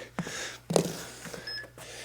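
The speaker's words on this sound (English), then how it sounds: "let me get this timer started" A home workout interval timer starts with one brief, high electronic beep over faint room noise.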